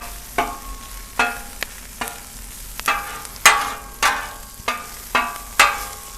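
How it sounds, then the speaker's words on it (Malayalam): Pepper stirred and fried in a pan for peri peri fish, with about nine sharp scraping strokes of the spoon at a steady rhythm over a soft continuous sizzle, close and alone with no voices. "പെപ്പറിക്ക് ഒന്ന് മൂപ്പിച്ച് കൊടുക്കാം."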